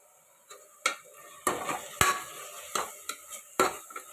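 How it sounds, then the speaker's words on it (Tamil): Ginger garlic paste stirred in a pan while cooking mushroom biryani, a spoon scraping and clinking against the metal in about nine close, sharp strokes over a faint sizzle, with no talking. "அதனால் கையை விடாமல் நல்லா கிளறிக்கிட்டே இருங்க."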